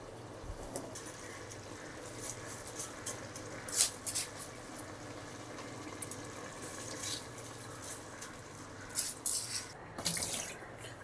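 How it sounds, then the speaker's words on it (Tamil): Water trickling and splashing near a pot of soaked rice for mushroom biryani in a home kitchen, a soft continuous pour with a few brighter splashes and faint bird calls in the background. "இப்போ இதில் வர தண்ணி இருக்குது."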